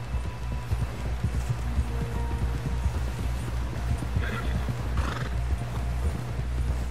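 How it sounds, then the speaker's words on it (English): Horse neighs and hoof clip-clop in Red Dead Redemption 2, with a steady galloping hoof rhythm under game ambience, plus a couple of whinnies rising near the end. "Someone help John down off this horse."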